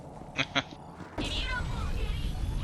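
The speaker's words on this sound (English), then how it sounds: "Oh, there's my kitty cat." A cat meows twice in short cries, followed by a loud, continuous noisy background with other sounds layered over it.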